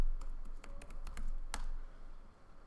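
Someone types data into SPSS on a computer keyboard, a quick, irregular run of close key clicks with one sharper tap near the end over a low background hum.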